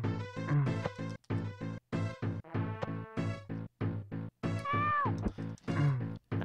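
A cat-like screeching and yowling in the video game Lester the Unlikely, with repeated loud harmonic wails and meows in quick succession, one long rising-and-falling screech near the end.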